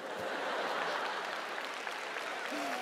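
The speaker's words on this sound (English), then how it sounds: "You clapping?" Broad, steady applause from a large crowd at a Liberty University convocation, sustained as an even wash of clapping with a brief voice near the end.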